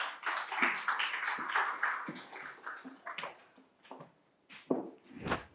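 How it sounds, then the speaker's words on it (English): A modest audience at an evening talk on mental health and community care claps to welcome a speaker, a few seconds of uneven handclaps, sparse and fairly close, tapering off with scattered final claps. "Please welcome him with an applause."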